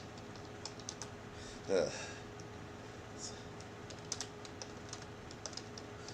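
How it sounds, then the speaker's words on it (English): Someone types on a computer keyboard, sending quick, faint key clicks in irregular bursts, with one brief spoken filler sound partway through. "I'm actually typing this out to put it on our display."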